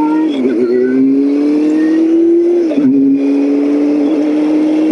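A motorcycle cruising on a hot summer road, its engine note loud and close, holding a steady pitch that rises slowly, dips briefly and then climbs again, with no talk over it.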